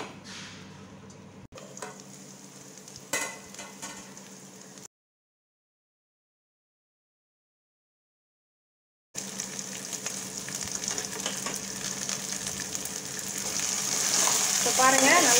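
Ivy gourd frying in a covered pan over a low flame for a Kovakkai 65 fry, a steady close crackling sizzle that cuts out to silence for several seconds, then returns louder and fuller, building toward the end.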